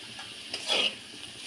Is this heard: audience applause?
no